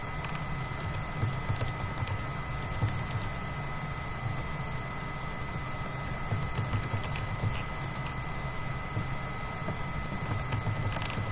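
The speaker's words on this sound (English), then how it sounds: "I will enter sample information into the boxes." Keys clatter in steady bursts on a computer keyboard as sample details are entered while setting up an iTunes account, close and continuous at a moderate level, with no talking.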